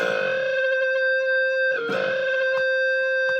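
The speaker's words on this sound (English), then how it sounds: "just quickly turn on some distortion right now for you." Electric guitar through an overdriven amp, a sustained distorted chord ringing out with a couple of sharp re-strums, loud and close.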